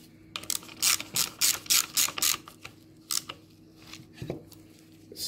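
A ratchet wrench tightens the bolts on a BMW thermostat housing in a run of fast, loud clicking bursts with short pauses between them, then a few sparser clicks, close and free of talk.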